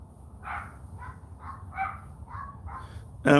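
A puppy barks six times in quick, fairly even succession, sharp and close over a low background hum, with a louder noise at the very end.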